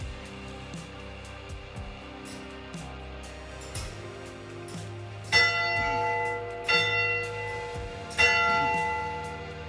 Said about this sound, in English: can pause to give the church bell a ring.